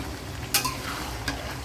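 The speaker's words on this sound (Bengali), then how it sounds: "দেখুন আমি আলু, পেঁয়াজ সুন্দর মতো মাংসের সাথে মিশিয়ে নিয়েছি।" Chicken curry with potatoes and onions being stirred in a pan, a soft scrape and clatter at about half a second with steady low sizzling beneath and a lighter scrape later.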